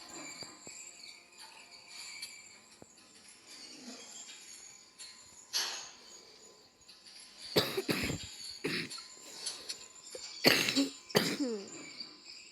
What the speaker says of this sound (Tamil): சாரி கேஸ், கொஞ்சம் இருமல்.